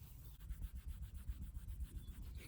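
Fine 3000-grit sandpaper rubs across car clear coat in quick back-and-forth strokes, a soft, close, rhythmic scratching that stays faint and steady with no talk.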